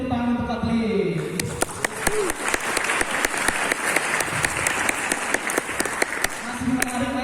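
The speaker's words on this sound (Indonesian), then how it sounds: "Jadi tepuk tangan untuk Kotlin." Audience applause at a Kotlin Multiplatform tech conference talk, a burst of dense clapping lasting several seconds with speech briefly heard before and after.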